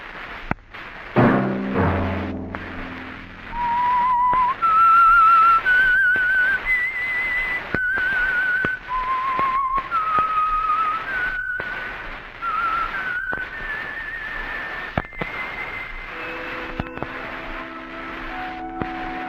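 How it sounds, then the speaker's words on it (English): A lone whistled theme from The Whistler mystery radio program, a clear wandering melody of sustained notes rising and falling over a low orchestral backing, close and prominent. "Let that whistle be your signal for the Signal Oil program, The Whistler"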